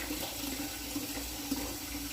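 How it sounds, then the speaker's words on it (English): Water runs steadily from a kitchen tap into a sink while dough is being shaped, a soft continuous splashing stream at moderate distance. "turn this water off"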